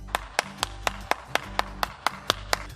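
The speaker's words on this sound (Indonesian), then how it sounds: "Tepuk tangan dulu dong yang meriah buat Tuhan." A small group claps hands at a children's online church service: about a dozen evenly spaced, crisp claps in a steady rhythm, close and moderately loud, with a faint hum beneath.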